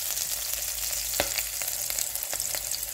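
Onions sizzle and fry in a pan for spinach pulao, a close, steady crackling hiss with occasional sharper pops and stirring sounds.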